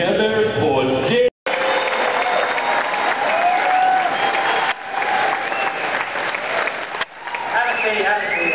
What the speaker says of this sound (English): Please put your hands together for Dave.